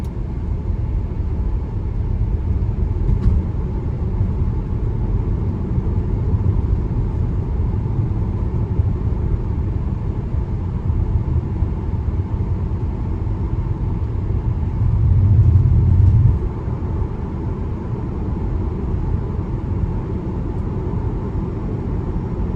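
A 2020 Tesla Model Y Performance rolling on skinny tires and 21-inch wheels gives a steady, loud low tire roar and road rumble heard from inside the cabin, unbroken and with a brief swell partway through.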